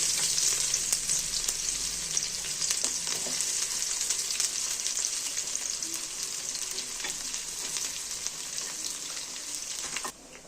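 Onions frying in mustard oil for a potato and spinach curry, giving a bright, steady hiss with occasional stirring clicks, loud and close, easing slightly before cutting off near the end, no speech.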